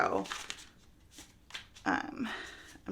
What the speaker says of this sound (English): I'm gonna shuffle my cards.